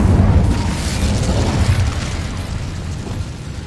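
The Incendio fire spell in Hogwarts Legacy bursts with a loud, low roaring whoosh that starts strong and slowly fades over several seconds.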